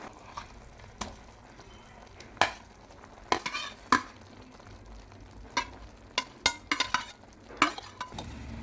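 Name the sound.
stirring and mashing potatoes in pan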